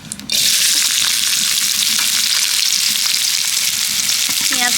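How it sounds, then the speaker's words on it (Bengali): Chopped onion sizzles loudly in hot oil in a wok for gravy, a steady dense frying hiss that starts abruptly and runs on without pause, with no voices. "পেঁয়াজটাকে ভেজে নেব"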